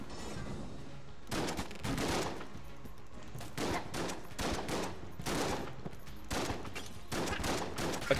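Video game gunfire rattles out in repeated rapid volleys, several separate bursts with short gaps between them, fairly faint and with no one talking.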